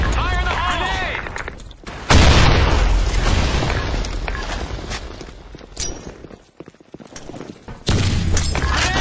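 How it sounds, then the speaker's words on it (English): Grenade explosions and gunfire in the tactical shooter game Insurgency Sandstorm, with loud booms opening the clip and again near the end, and a rumbling, crackling battle din in between. "Fire in the hole. Grenade."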